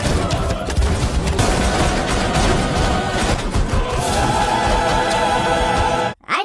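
Sustained gunfire pours into Eric in The Crow (2024) as he climbs a stairwell, a dense, loud fusillade of rapid shots and impacts that cuts off abruptly near the end.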